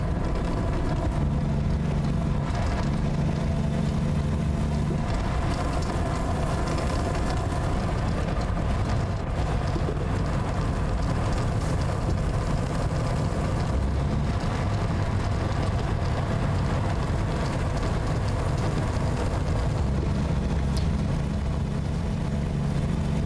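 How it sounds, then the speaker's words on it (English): A truck rolls along a highway in American Truck Simulator, a steady low engine drone and road hum continuing evenly and moderately loud throughout, with no voices. "It's really relaxing to just listen to the road underfoot, well, under wheel, as you drive."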